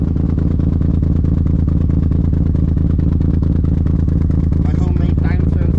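A big-turbo semi-peripheral-port Mazda RX7 FD rotary idles after a cold start through a homemade downturn silencer, a loud, steady, choppy lumpy rhythm throughout with faint rattly clatter on top.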